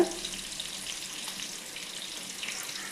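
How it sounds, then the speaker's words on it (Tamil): A clay pot of fish curry bubbles and sizzles steadily up close, a continuous soft hissing simmer with no voices. "குழம்பு நல்லா கொதிக்கணுங்க"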